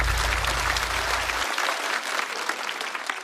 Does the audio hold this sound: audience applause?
yes